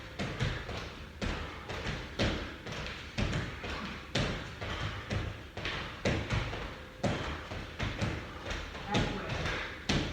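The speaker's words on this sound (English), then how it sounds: "Star jumps again." Twins doing star jumps in a workout land in a steady rhythm, producing a long run of evenly spaced, soft thuds at moderate distance.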